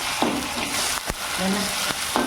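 Onion turning reddish in a pan sizzles steadily as ginger paste and garlic paste are added, for a mutton kalji recipe. A continuous close frying hiss is broken by a few sharp spoon clinks and scrapes, with no talking.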